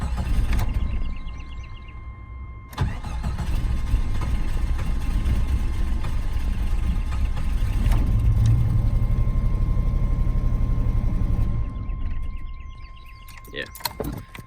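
A 1988 Jeep Wagoneer XJ engine running at a steady low idle nearby, joined partway through by an electric window motor's whine, with a person speaking over it.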